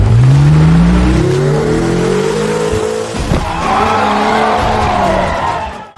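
An animated electric car charges up a steep slope in a race, its motor rising in a long whining sweep with tire squeal and a brief thud midway, loud and close throughout.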